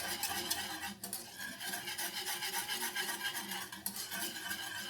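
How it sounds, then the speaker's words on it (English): A thickening fruit dessert mixture being stirred in a pan, continuous close scraping and swishing of the spoon over a soft bubbling sizzle, with no voices. "Keep stirring. Get it nice and thick."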